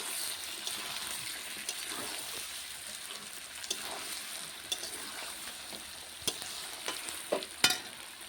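Chicken pieces sautéed in oil in a home-style chicken curry with potatoes, stirred with a spoon: a low sizzle with scattered scrapes and a few louder knocks toward the end, close, without speech.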